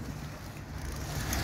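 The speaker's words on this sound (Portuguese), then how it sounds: "Tá um vento bem gelado." Cold wind gusts steadily across the shore of Araruama Lagoon, a continuous low rumble buffeting the microphone with faint water wash beneath, no voices.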